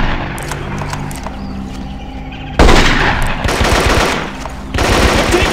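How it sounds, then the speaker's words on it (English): Gunfire in the PC game Marine Sharpshooter 2: Jungle Warfare: loud, rapid bursts of automatic fire that start partway through, over a faint background hum. "I'm taking fire!"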